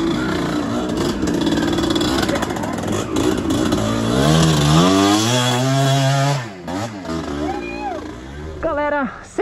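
A motocross motorcycle accelerating on a dirt track, its engine revving loudly and close by, the pitch climbing and falling through repeated throttle bursts before a brief dip and a final sharp rev.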